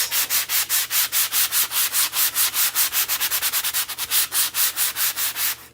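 Hand sanding with 60 grit sandpaper during a chalk-transfer craft project, a steady run of close, loud rasping back-and-forth strokes, quickening briefly near the middle, with no talking.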